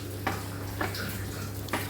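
Soybean chilli being stirred in a pan over a low flame, with a steady frying sizzle and three brief scraping strokes of the spoon against the pan, spaced out and fairly quiet, no talk.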